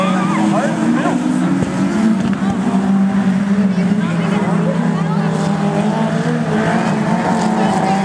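Dwarf race cars roar around an oval track at the Borderline in a steady, loud engine drone that holds throughout, with faint tire squeal, and a voice talks over it.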